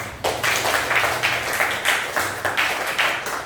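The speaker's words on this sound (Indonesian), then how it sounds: "kita berikan tepuk tangan dulu." A class of pupils claps together in a classroom, a short burst of fairly close, loosely rhythmic applause that comes in uneven waves.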